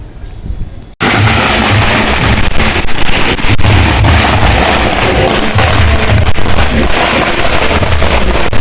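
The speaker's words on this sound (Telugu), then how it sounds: "బాంబులు పేల్చేస్తున్నారు" Firecrackers burst at a wedding as the groom arrives, a loud sustained crackling barrage that erupts suddenly and keeps going without pause, dense overlapping pops close by.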